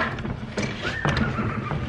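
A horse whinnies loudly and nearby on an icy winter day, a rising then falling neigh, with a few soft hoof clops and stable noises around it.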